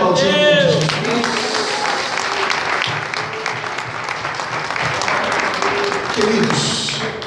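A church congregation applauds throughout, steady and loud, with a voice speaking and calling out over the clapping and a brief tonal sweep near the start.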